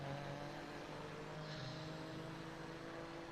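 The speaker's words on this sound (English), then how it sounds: "I love the sound, the engine sound of these." Race car engine roaring steadily in the VR racing game Grid Legends on Meta Quest 2, a continuous loud drone with a brief rising rev midway and no talk over it.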